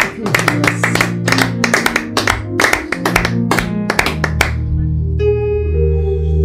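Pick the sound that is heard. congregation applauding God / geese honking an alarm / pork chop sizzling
congregation applauding God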